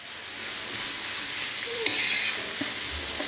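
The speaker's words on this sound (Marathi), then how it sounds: "हे पुन्हा एकदा व्यवस्थित छान मिक्स करून घेऊया" A dried bombil masala with kokum sizzles and is stirred on an iron pan, a steady frying hiss with a few scraping stirs, with no talking.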